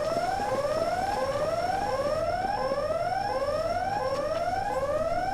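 A rising, repeating electronic alarm wails steadily in a building lobby in Spider-Man 2, each sweep climbing in pitch over a constant high tone, loud and continuous with no voices.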